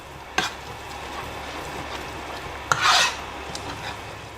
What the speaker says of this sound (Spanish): lo revolvemos todo bien para que se fría la harina